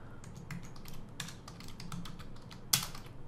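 Typing an SQL insert command on a computer keyboard, a short run of soft, irregular keystrokes ending in one sharper key hit, close over faint room hiss.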